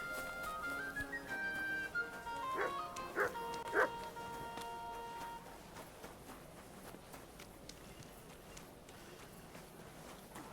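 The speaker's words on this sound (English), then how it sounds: "Stop barking." A dog in the medieval video game Kingdom Come Deliverance 2 barks a few quick times at moderate level over game music and ambience, then the barking stops and only quieter background remains.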